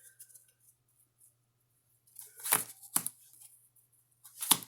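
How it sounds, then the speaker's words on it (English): Yu-Gi-Oh! trading cards being shuffled by hand, a few quiet papery riffles after a near-silent pause, then a couple of sharper slapping shuffles close by, with no voices. "shuffling. Nobody cares about shuffling."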